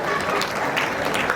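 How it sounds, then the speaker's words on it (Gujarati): A crowd at a family community gathering gives loud applause, a brief, dense burst of clapping with some voices mixed in. "જોરદાર તાળીઓ સાથે વધાવી લઈએ."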